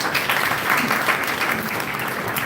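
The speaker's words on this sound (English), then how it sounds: "Please give her a big round of applause." Steady crowd applause at an event on mental health, a dense, even wash of clapping held at full strength throughout.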